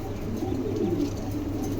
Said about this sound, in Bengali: এখানে একজোড়া জার্মান কুপার আছে